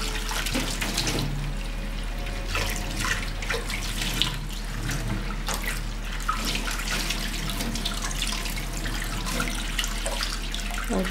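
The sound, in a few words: water running from a tap while washing a bowl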